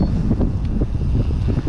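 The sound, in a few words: strong wind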